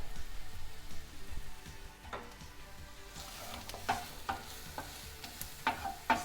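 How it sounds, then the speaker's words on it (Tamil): Ginger powder and cumin powder sautéing in a pan, a quiet continuous sizzle broken by scattered light clicks and scrapes of a spoon stirring. "இப்போ நம்ம லைட்டாக அதை போட்டு சேர்த்து வதக்கிக்கலாம்"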